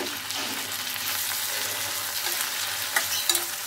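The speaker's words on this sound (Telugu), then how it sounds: "ఇప్పుడు మనం కట్ చేసి పెట్టుకున్న టమోటా ముక్కలు వేస్తున్నాము." Chopped tomato pieces dropped into a frying pan for a gongura egg curry, a continuous close sizzle with soft stirring scrapes and a few small clinks near the end, no talking.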